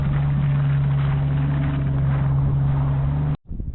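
Off-road vehicle engine running steadily with its exhaust pipe full of water, a loud continuous droning rumble with a strong low hum that cuts off abruptly near the end, no talk.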